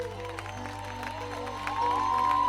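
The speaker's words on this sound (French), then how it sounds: "J'aimerais entendre des acclamations royales." Worship congregation cheering and applauding for a few seconds, a broad wash of clapping and crowd noise with a sustained musical tone rising underneath, steady and fairly distant.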